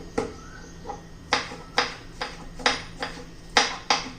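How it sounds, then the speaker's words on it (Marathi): A knife finely chopping green chili on a board, sharp separate cutting taps in an uneven rhythm, about ten strikes, close and clear with no talking. "हिरवी मिरची एकदम बारीक चिरून अशी घ्यायची आहे"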